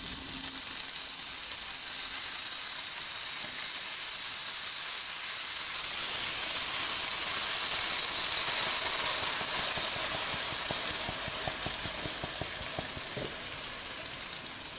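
Strained red sauce is poured into hot oil and erupts into a loud, steady hissing sizzle that grows stronger partway through and keeps going, close and continuous with no talking.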